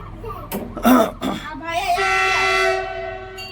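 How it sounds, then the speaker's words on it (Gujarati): A goods train's horn blasts a long, loud tone near the end as it arrives, following brief bursts of nearby voices. "જો ટ્રેન આવી ગઈ છે"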